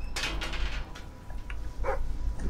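A dog in the game Fable III gives a few short barks and yips, close and moderately loud, over a low ambient hum.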